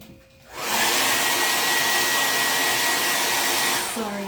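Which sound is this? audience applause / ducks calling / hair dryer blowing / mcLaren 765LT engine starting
hair dryer blowing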